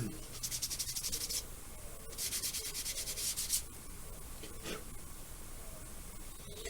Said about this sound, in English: You just sand it.